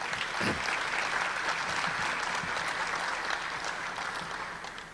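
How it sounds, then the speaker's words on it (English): Sustained applause from a graduation audience honoring the center staff, a dense, steady wash of many hands clapping that fills the hall and slowly tapers near the end. "So would you give those folks a round of applause,"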